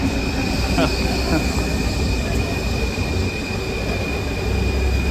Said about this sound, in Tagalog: may dumadaan lang train.